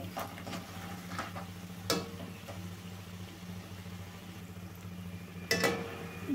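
Snacks fry in a pan of hot oil, giving a soft, steady bubbling sizzle with a low hum beneath and a few sharp clinks and scrapes of stirring.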